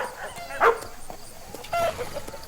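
Two short, sharp barks from a dog come about a second apart over a quiet background, loud against the surrounding hush.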